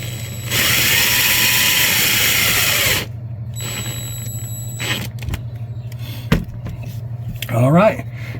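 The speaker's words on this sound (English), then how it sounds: "Just once it goes through, you can slow down the drill." A cordless drill drives screws while a lithium battery is installed, giving a loud, steady motor whine for a few seconds that then stops, followed by quieter handling clatter and a short final burst.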